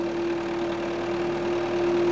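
A 1951 MAN tractor engine idles steadily nearby, a low chugging rumble with a constant hum, no voices.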